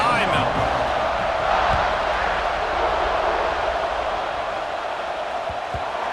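A stadium crowd roars continuously in the video game EA Sports College Football 26 as a kickoff approaches, a dense sustained cheer that eases slightly toward the end.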